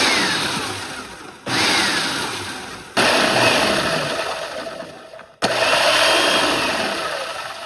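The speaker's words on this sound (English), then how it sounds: "I like to use this and actually break it down a little bit further by using our food processors" A food processor pulses panko bread crumbs in three loud bursts, each whirring start dropping off as the blade winds down, with short gaps between pulses.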